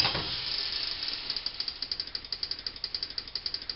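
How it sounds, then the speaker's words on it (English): Cherry pie fruit filling coming to a boil in a pot on a burner, a steady hiss building into a regular train of bubbling pops that grow stronger and more rhythmic, close and alone. "The fruit fluid is starting to boil now"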